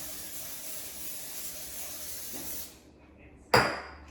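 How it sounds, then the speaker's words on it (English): Cooking spray hisses steadily onto a pan for about two and a half seconds while cornbread dressing is being made, then stops, and a short sharp clatter follows. "I'm going to try to spray my pan."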